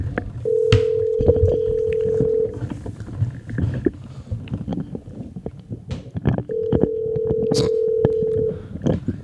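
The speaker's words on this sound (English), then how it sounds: "I don't think he's picked up the phone." A phone call rings out over a speakerphone in two long electronic ringback tones separated by a pause, heard amid room rustle and handling noise.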